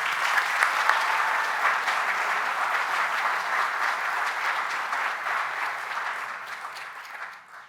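An audience at a university awards ceremony claps steadily in a room, the applause full and sustained before thinning and fading out at the end.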